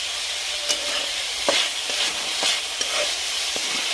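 Moth bean sprouts fry in a pan as a spoon stirs them, giving a continuous sizzle punctuated by several scraping clicks at an uneven rhythm, close by with no talking.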